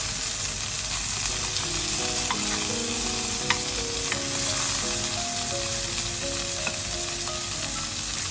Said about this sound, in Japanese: 全体の面に焼き目をねしっかりつける